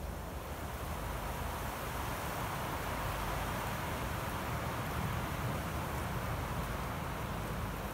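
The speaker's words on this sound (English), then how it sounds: "It's a very windy day. You probably hear that." Strong wind gusting outdoors on a very windy day, a steady loud broadband roar buffeting the microphone throughout with no letup.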